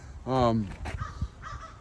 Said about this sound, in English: these crows are driving me nuts